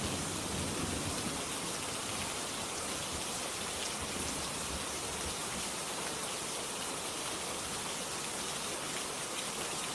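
Steady rain falls without a break, an even hiss of drops on a surface, sounding dense and close all the way through, with no voices.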